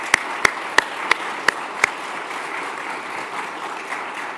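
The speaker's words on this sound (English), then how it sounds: "can you join me in first a good round of applause for Doug's family" An audience applauds at an academic installation ceremony to welcome a family, a steady, moderately loud ripple of clapping with six sharp, evenly spaced claps standing out near the start.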